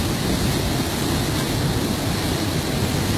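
Strong current of a flooded river roaring in a dense, steady rush of water noise, loud and unbroken with no voices over it.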